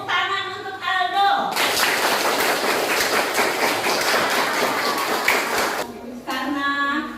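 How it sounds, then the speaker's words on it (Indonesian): A classroom of pupils breaks into loud, sustained clapping for a classmate, several seconds of dense applause with talk just before and after. "Tepuk tangan untuk Aldo"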